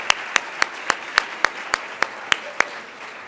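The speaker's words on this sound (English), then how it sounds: "I'd like you to stand, and we'll give you a round of applause" A slow, sparse series of about a dozen distinct handclaps at a sports team banquet, evenly spaced and fairly close, honoring the players with no talking over them.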